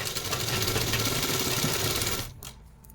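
A sewing machine stitches a pocket onto a salwar, running in a steady, loud, fast whir of needle strokes that cuts off near the end, leaving a brief faint clatter.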